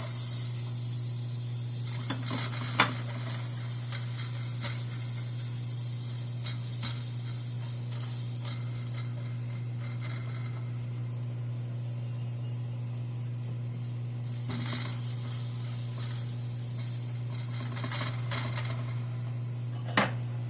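Onions fry in a pan for a vegetable dish, giving a steady, close sizzle that runs unbroken throughout with a constant low hum beneath and occasional faint clinks.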